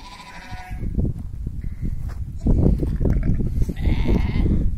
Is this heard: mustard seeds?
no